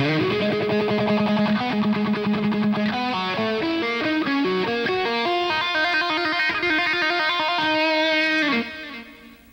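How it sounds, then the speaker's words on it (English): Electric guitar plays a quick run of picked, string-skipping pulled-off notes ringing against open strings, slower, ending in a sustained trill that fades out. "He sort of string skips and pulls off to open strings."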